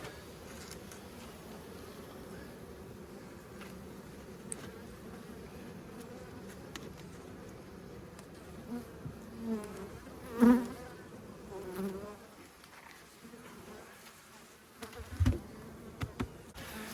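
Honey bees buzz around a hive in a continuous low drone, close by, with a few louder passes as individual bees fly near, and no talking.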